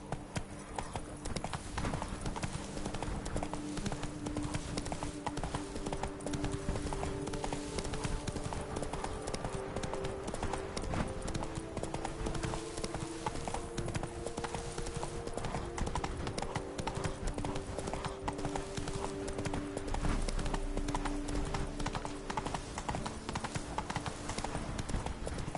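Roach, the horse in Witcher 3, gallops with a continuous quick clip-clop of hooves. The hoofbeats stay close and steady throughout, layered over game music and ambience.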